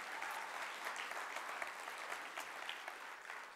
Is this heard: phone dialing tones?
no